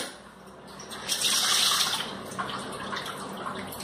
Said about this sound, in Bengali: সামান্য জল দেবো, বেশি না।